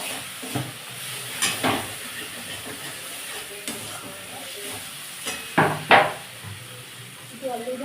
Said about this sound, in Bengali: জল দিয়ে মশলাটা ভালো করে কষে দিতে হবে।